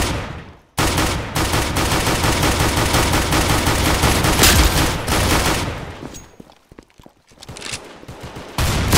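An automatic pistol in the Counter Blox game fires in a long, rapid, loud burst lasting several seconds, then breaks off into a few shorter scattered bursts and single shots.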